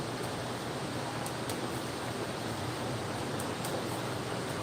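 Rushing water of the Little Pigeon River in Pigeon Forge, Tennessee, by the Creekstone Inn: a steady, full broadband roar that stays even and unbroken throughout, with no voices.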